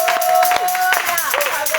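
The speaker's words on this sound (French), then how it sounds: "Offre une grande acclamation." A church congregation at a revival prayer meeting in Cotonou, Benin, claps and cries out in acclamation. The claps are loud, close and rhythmic, and voices shout over them.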